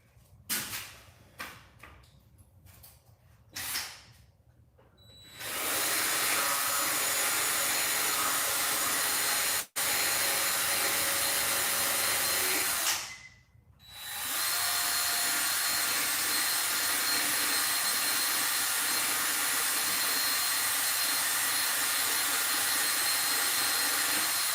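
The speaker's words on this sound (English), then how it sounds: "So let's grab the Dremel and get to working." A Dremel rotary tool grinds down an RC car part, starting after a few scattered clicks and handling noises with a loud, sustained high-pitched whine, one brief cutoff, then a short pause before spinning up again.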